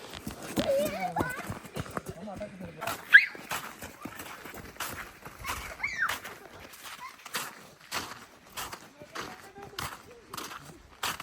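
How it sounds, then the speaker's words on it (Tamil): Several horses kept at an animal park where visitors can touch deer, their hooves clip-clopping in uneven bursts at close range, while people talk over the sounds. "நாங்கள் நெக்ஸ்ட் பார்க்க போகிற அனிமல் பார்த்தீங்கன்னா குதிரை தான் ஒரு நாலஞ்சு குதிரை கிட்டே இருந்தது"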